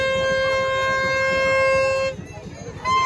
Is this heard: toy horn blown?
yes